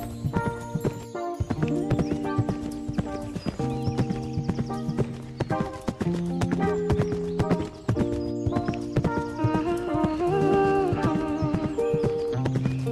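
Steady clip-clop of a horse's hooves trotting on a cross-country ride, close and continuous, with a brief whinny and occasional soft rider's voice underneath.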